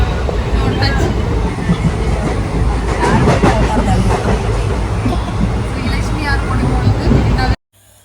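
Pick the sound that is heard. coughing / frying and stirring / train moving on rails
train moving on rails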